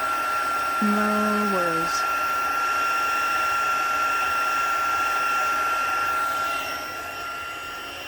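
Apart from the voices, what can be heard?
heat tool embossing paper for a card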